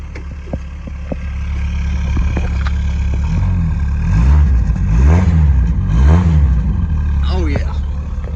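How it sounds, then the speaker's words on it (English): A 1996 Chevy S10 pickup's engine is revved a few times, rising and falling in loud, close surges over a steady idle, with voices heard briefly. "Give her a couple revs."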